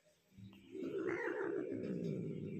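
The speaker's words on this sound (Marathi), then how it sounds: "ह्यो माझ्यावर गुर्र गुर्र गुर्र गुर्र" A pet, likely a cat wrapped in a sheet, growls low and steady for a couple of seconds, rising after a brief quiet start and holding a rough, sustained rumble close to the listener.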